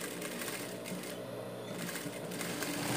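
A sewing machine stitches the edges of a fabric dog bandana, a steady close mechanical whir and rapid needle clatter running continuously for a few seconds, with no talk.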